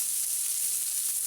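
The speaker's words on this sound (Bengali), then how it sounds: "তো ভালো করে পেঁয়াজটাকে লাল লাল করে ভেজে নেবো।" Onion frying in a pan for homemade chow mein, a steady high hissing sizzle, even and continuous, with no voices.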